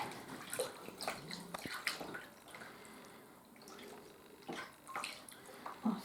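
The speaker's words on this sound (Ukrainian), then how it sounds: "Наповнили ми кішку, тепер ми її обмиваємо у воді." Freshly filled sausage casing for homemade buckwheat sausage is rinsed by hand in a bowl of water, giving soft, close splashes and drips in irregular bursts.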